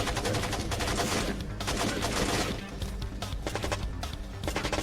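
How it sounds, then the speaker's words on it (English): A mounted automatic turret in Tom Clancy's Splinter Cell on GameCube fires sustained bursts, a loud, dense rattle of rapid shots with heavy impacts that briefly eases mid-way before resuming in choppier bursts. "So since we set up the turret to shoot any enemy, including ourselves"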